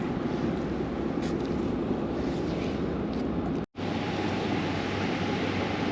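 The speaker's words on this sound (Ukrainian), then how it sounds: "дощ пішов, вітер посилився." Dense, steady broadband hiss of rain mixed with strengthening, gusting wind buffeting the microphone on the Dnipro River, continuous with one brief dropout.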